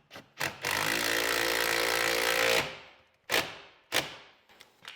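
An impact driver runs a lag bolt into a spacer while installing an Enphase IQ EV charger, giving a steady two-second whir followed by a few short bursts of tightening, close and fairly loud with no talk.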